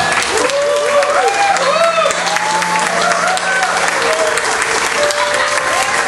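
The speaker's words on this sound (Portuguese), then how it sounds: "Podemos aplaudir" Wedding guests applaud steadily at a ceremony at Casa Vanelli, the dense clapping sustained and loud while whistles, cheers and raised voices ring out over it throughout.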